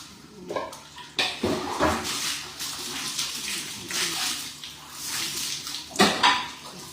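Water poured from a dipper during a bath splashes and gushes in uneven bursts, close and fairly loud, with sharper splashes near the start and again toward the end.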